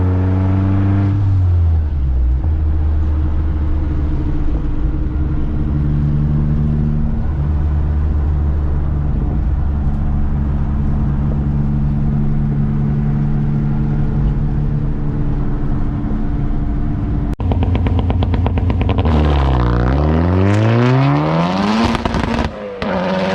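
Mazdaspeed3 engine and exhaust revving hard under acceleration, a loud sustained roar rising through the gears with crackling pops on deceleration, then sharp climbing revs near the end.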